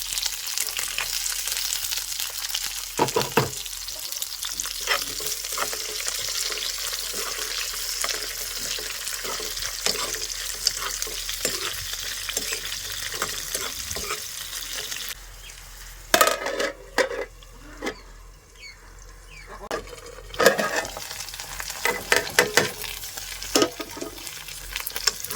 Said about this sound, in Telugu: అలాగే ఉల్లిపాయలు, పచ్చిమిర్చి కూడా వేసేస్తున్నానండి.